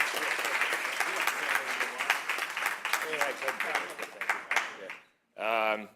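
Audience applause for a girls' lacrosse coach at a school board meeting, steady clapping for about five seconds before stopping, then a voice speaks briefly.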